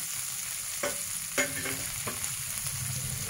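Chopped onion and ginger fry in hot oil in a pan, cooked without garlic, giving a steady close sizzle with a few brief stirring clinks and scrapes.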